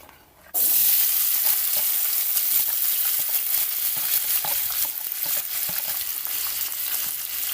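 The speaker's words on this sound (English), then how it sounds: "I'm going to use the same pot that I fried the dumpling into fry up my tin mackerel and ackee." Sweet pepper, tomato, onion, garlic and hot pepper hit hot oil in a pot, used earlier for frying dumplings, for a Jamaican mackerel and ackee dish. A sudden loud sizzle erupts after a brief quiet moment and holds steady, close and alone.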